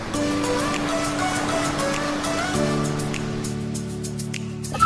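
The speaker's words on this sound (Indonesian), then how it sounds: "Hari ini aku lagi ada di salah satu pantai di Lampung Selatan, yaitu Senaya Beach" Ocean waves at Senaya Beach in Lampung Selatan roll in a continuous broad wash of surf, with a low steady hum running underneath and no talking.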